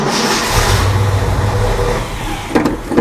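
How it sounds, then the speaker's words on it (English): A Ford F100 pickup's engine cranks and runs, a loud, close, rumbling mid-range drone that holds steady for a few seconds before a couple of sharper bursts near the end. "Let's go ahead and fire up the truck and make sure everything works"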